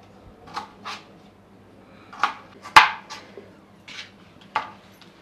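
Raw mango being cut into pieces with a knife, a handful of separate crisp cuts and taps spaced irregularly, close and fairly clear against a quiet, faintly humming room.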